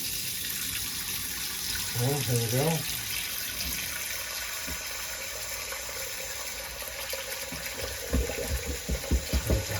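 Water runs steadily from a Kohler Fairfax faucet under repair, a broad continuous hiss through most of the stretch, with a person speaking briefly near the start and clunks and handling near the end.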